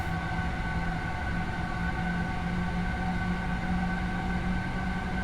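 A BR 425 German electric passenger train in Train Simulator runs and accelerates, giving a loud, continuous rumble with steady motor whine, alone without speech.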